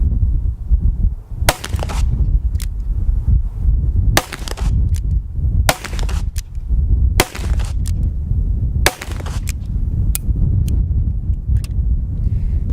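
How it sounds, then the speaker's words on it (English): Shots from a .357 Magnum revolver fired outdoors, about eight sharp, loud cracks at irregular intervals, each with a short decay, over steady wind noise on the microphone. "the .357 Magnum is quite a tolerable round"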